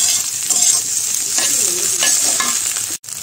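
Egg frying in a hot pan while being stirred: a steady, loud sizzle runs throughout, with repeated scraping strokes of the utensil on top and a brief drop-out just before the end.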